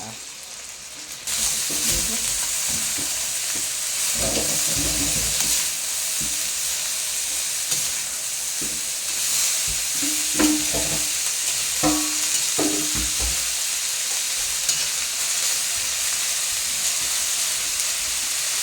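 Bean sprouts and tofu are sautéed in a pan, giving a steady loud sizzle and hiss throughout, with a utensil stirring and scraping now and then near the mic and a little liquid bubbling. Nobody speaks.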